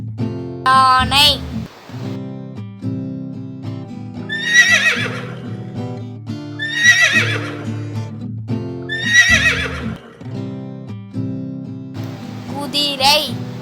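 A horse neighs repeatedly, four or five loud whinnies spaced a couple of seconds apart, each rising and falling, over a steady low background with faint hoof clatter.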